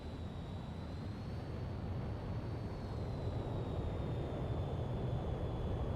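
A Rafale M jet engine roars steadily on a carrier landing approach in Ace Combat 6, a constant loud rush with a thin, high whine drifting slightly in pitch.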